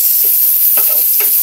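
Garlic, onion and ginger hit hot oil and margarine in a pan with a loud, close, continuous hissing sizzle, broken by a few brief stirring scrapes.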